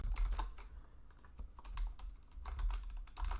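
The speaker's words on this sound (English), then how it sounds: "just type in your ID as the grid" Computer keyboard typing, close and crisp, with quick clusters of key taps and heavier thumps, likely the space bar, over about three seconds and no voice.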